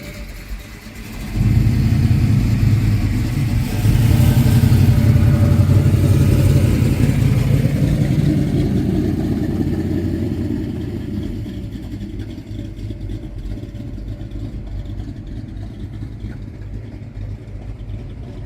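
A 1968 car's engine runs loud and close, swelling into a sustained rev, holding high, then easing back to a steady lower drone.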